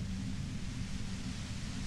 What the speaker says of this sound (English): we get to the bit where we have to knock over the white noise machine